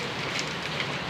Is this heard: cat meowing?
no